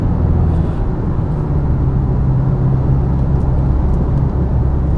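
A 2025 Isuzu D-Max V-Cross pickup truck is driven around corners, giving a steady low engine drone and road rumble from inside the cab with no speech.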